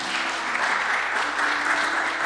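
A church congregation applauds during a live worship service, a dense, steady clapping that carries evenly throughout.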